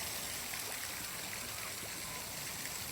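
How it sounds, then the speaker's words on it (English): A waterfall pours onto Collins Beach behind Manly Beach, giving a constant close hiss and rush of falling and trickling water with no pauses. "We have a beautiful waterfall"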